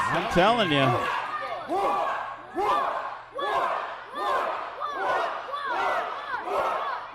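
Large wrestling arena crowd cheers and roars loudly in repeated surging waves, with a voice talking over the din.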